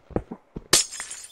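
In the video game Minecraft, a house is broken into: a few soft knocks lead into a bright, crisp shatter of glass breaking, loud and brief, with no talking.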